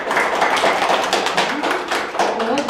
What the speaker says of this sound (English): Now clap, clap your hands.